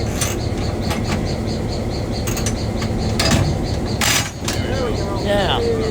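A train's hand crank is wound tight and then slammed off, giving a loud mechanical ratcheting clatter over steady rumbling running noise, with a few sharp knocks and a brief squeal near the end.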